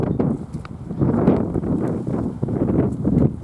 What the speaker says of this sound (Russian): Какой же сильный ветер, друзья